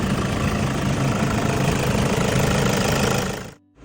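A van engine idling, running as a steady, loud, low-pitched rumble with a faint knocking texture for about three and a half seconds before it cuts off abruptly, with no talking.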